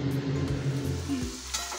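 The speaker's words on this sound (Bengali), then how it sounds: "এখানে এখন বেরেস্তার জন্য যে পেঁয়াজ ভাজা চলছে" Sliced onions frying in hot oil as beresta for biryani, giving a steady, close sizzle that carries on without pause and with no voices.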